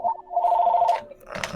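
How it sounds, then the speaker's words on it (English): Indoor telephone bell ringing in two bursts with a short gap, fairly close, followed by a person starting to talk. "somebody get that fucking phone"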